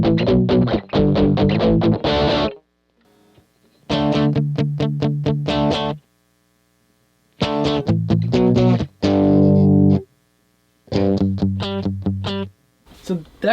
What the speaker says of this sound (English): as you add distortion, this is what it turns into